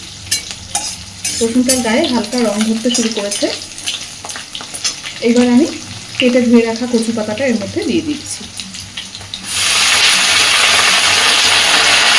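Ground paste of chola kochu (taro) leaves being stirred and mixed in a hot pan, with loud steady frying sizzle and scraping, and a voice talking over it before the sizzle swells alone near the end.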